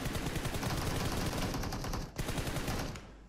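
Dense, continuous automatic gunfire from PUBG Mobile, rapid overlapping shots at steady loudness with a brief break near the end before the firing trails off.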